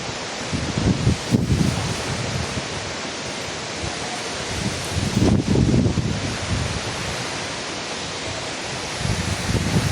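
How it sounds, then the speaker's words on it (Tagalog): Coconut palm leaves thrash and rustle in gusting wind ahead of Typhoon Uwan, a broad roaring whoosh that swells in separate surges with calmer stretches between them, close to the microphone. "yung mga dahon po ng nyog ay talagang humahapay kapag bumubugso po yung hangin"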